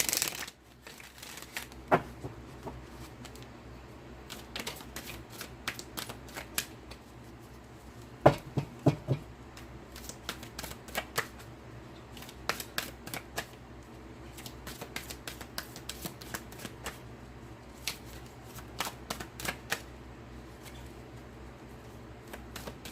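New tarot cards being shuffled by hand for a crystal reading, giving quiet, irregular bursts of riffling and slapping that come close together over a faint background, with no speech.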